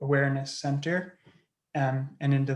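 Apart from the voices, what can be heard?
None of the usual background noises is heard.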